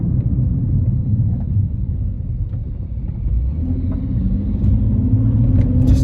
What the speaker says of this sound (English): Casually driving a construction vehicle down the road